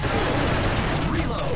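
Dense, continuous volley of gunfire from the Time Crisis arcade shooter, loud and steady with rapid overlapping shots throughout and a voice shouting over it.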